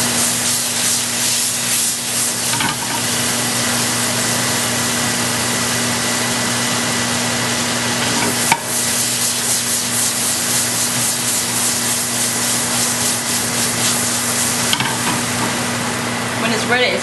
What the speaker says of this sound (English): I want it to actually fry or start sauteing in the skillet.